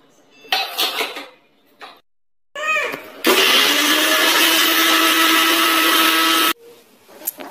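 Mixer grinder whirring loudly for about three seconds as it grinds ginger and garlic masala, bracketed by clattering of the jar and lid and brief handling knocks.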